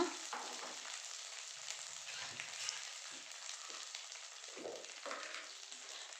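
Onion and green chilies fry in a pan for egg fried rice, making a soft, continuous hiss broken by a few short stirring scrapes.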